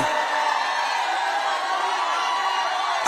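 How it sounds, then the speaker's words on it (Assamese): Women ululating together at an Assamese gathering, a continuous high trilling wash of many voices blended with crowd noise, steady and fairly loud for the whole stretch. "মহিলাসকলে উৰুলি বজাওক, উৰুলি বজাওক মহিলাসকলে"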